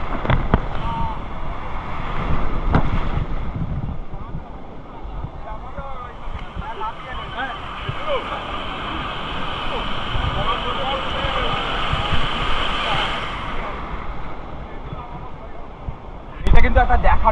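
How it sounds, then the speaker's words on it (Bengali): Big sea waves break on Puri beach as a steady, loud broadband roar with surging swells, mixed with wind buffeting, while people talk throughout. "এটা কিন্তু একটা দেখার মতো, কত বড় ঢেউ"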